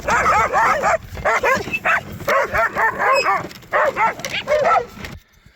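Several dogs in a Bulgarian village bark aggressively in rapid, overlapping bursts, loud and close, before cutting off abruptly at the end.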